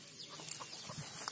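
Hybrid jungle fowl cluck faintly in a farm setting near their nests, a few soft scattered calls over quiet background noise, with no voices.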